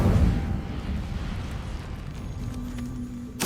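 The Incendio fire spell being cast in the video game Hogwarts Legacy: a loud fiery burst at the start that decays into a low rumbling roar, with another sharp burst at the very end.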